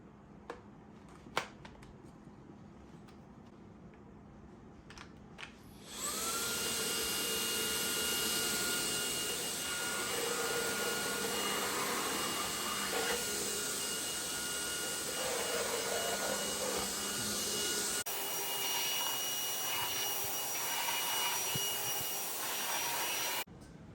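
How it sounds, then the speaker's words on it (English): An Agaro Supreme cordless vacuum cleaner switches on and runs with a steady, loud whine and whoosh, its pitch shifting slightly as it sweeps curtain fabric, then cuts to a quieter motor tone. "Let's attach it directly to the vacuum cleaner and clean some curtains."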